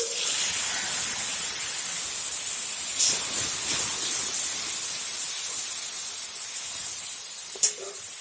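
Onions go into hot spiced oil while cooking fish curry, giving a steady close hissing sizzle that holds evenly throughout, with a brief sharp clink near the end.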